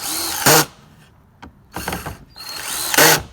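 A cordless drill driving screws into a board for board and batten shutters, its clutch set at 11 slipping with loud ratcheting bursts, three separate runs close by with short gaps between them.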